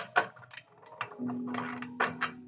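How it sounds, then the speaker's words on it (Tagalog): A wrench loosens the 14mm blade bolt on a PowerHouse miter saw, giving a series of close metallic clicks and ratcheting clanks, with a short steady hum partway through. "papaluwangan lang natin itong bolt na to"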